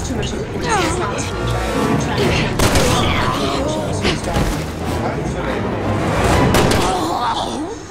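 Gunfire bursts and impact booms in the Resident Evil 6 Remaster video game, loud and dense, mixed with dramatic music and voices talking throughout.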